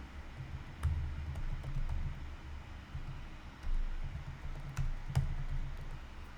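Scattered keyboard clicks tap out in short bursts over a low background hum, with a few louder keystrokes standing out.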